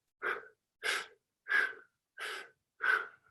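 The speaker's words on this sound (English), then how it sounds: "You see how fast I'm breathing?" Quick, forceful breaths for wind instrument playing, five sharp bursts of air evenly spaced about two-thirds of a second apart, close and clear with no talking.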